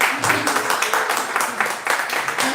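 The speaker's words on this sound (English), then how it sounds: "Please clap for him." A room of people at a university sociology seminar applauding, brisk overlapping hand claps forming a continuous patter, close and fairly loud for a couple of seconds, with a voice faintly mixed in.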